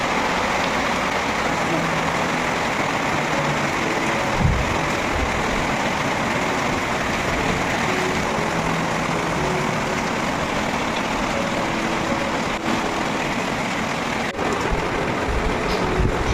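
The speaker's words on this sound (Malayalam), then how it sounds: "മഴ പെയ്തു തുടങ്ങി." Steady, dense rush of rain falling continuously, a broad even wash of noise with faint low rumbling underneath and no clear pauses.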